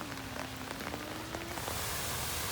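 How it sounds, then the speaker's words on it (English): Steady rain falls on a street in Athens, a dense, even hiss of drops close by, with a faint tonal whine drifting underneath for the first part. "it's raining"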